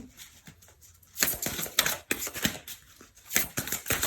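Tarot or oracle cards being shuffled in an April 2020 reading, heard as bursts of crisp riffling and slapping close by, stopping and starting in irregular clusters, with no talking.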